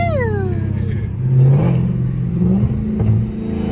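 A supercharged second-generation Dodge Hellcat revs with its blower whining, a high falling whine sweeping down early, then a rough low engine drone with uneven surges, loud and close.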